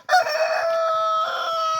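A rooster crows loudly and close by, one long sustained call lasting over a second, with faint clucking from chickens beneath it.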